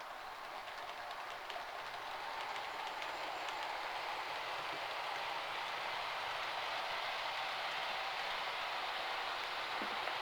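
Model railway train of the Wrexham & Shropshire livery running steadily along its track, a faint continuous whirring and light rattle with no pauses throughout.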